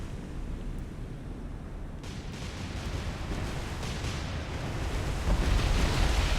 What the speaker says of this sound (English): Kuma suffers a magazine explosion.